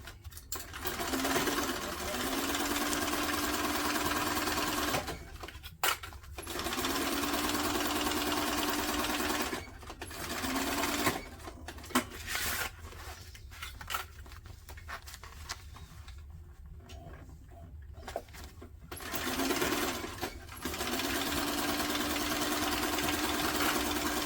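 A sewing machine stitching a tote bag seam along a seam guide runs in long steady bursts, broken by short stops and a stretch of quieter, choppier handling around the middle.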